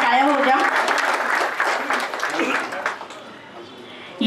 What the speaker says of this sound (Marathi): मंडळी, जोरदार टाळ्या होऊ द्या.